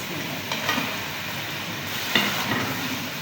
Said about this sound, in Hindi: आलू ऐड कर तकरीबन 3 से 4 मिनट के लिए इसमें भूनेंगे